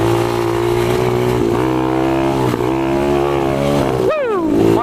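A pit bike engine runs loud and close after an oil change, a steady harmonic drone that wavers slightly before revving sharply up near the end.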